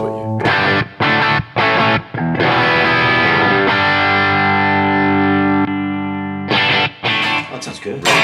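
An electric guitar with its pickup switched to parallel wiring plays through an overdrive pedal, giving loud, sustained distorted chords and notes with short pauses between phrases.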